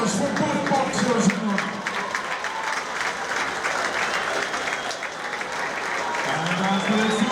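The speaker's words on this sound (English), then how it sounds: "a massive round of applause for both boxers" Sustained applause from a crowd at a Muay Thai boxing event fills the hall after a bout, steady and dense throughout, with a ring announcer's voice carrying over the clapping.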